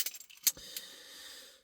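A Citroen C3 Aircross car key jangles close by in a brief metallic rattle, with a couple of sharp clinks and then a short fading shimmer, alone and fairly quiet.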